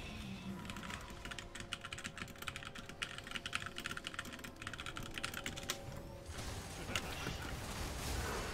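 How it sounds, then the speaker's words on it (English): Rapid, continuous typing on a computer keyboard during a League of Legends match, dense clatter of keystrokes close to the mic with a steady game background hum. "I was typing"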